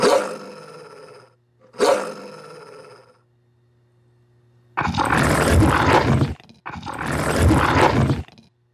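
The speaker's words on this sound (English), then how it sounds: "it feels more like the dog is actually making the sound" A dog roar sound effect synced to an animated dog in a game or app, heard as two loud, broad roaring bursts near the end of the clip, after two short harmonic growls, with a faint hum between them.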